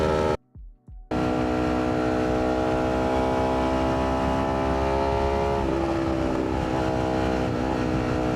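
A motorcycle engine holds a high, steady rev after a brief cut near the start, a loud, tonal drone with slight pitch dips later on, close with wind noise beneath.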